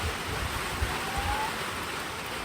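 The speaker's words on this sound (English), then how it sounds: "It's really starting to rain." Heavy rain pouring down outdoors in wet weather, a steady broadband wash of falling water with low rumbling gusts, continuous and fairly loud throughout with no voices.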